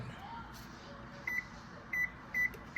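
An oven's control panel beeps as it is switched on in a home kitchen, three short clear electronic tones spaced about half a second apart over a low steady room hum.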